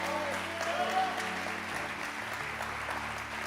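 A church congregation applauds during a sermon, steady clapping spread through the room, heard at a moderate distance with a sustained musical tone and faint voices underneath.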